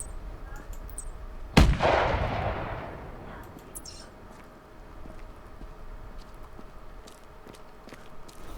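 A single loud rifle shot cracks out during an outdoor hunt and booms away over a valley, fading slowly, followed by quiet ambient noise and faint movement.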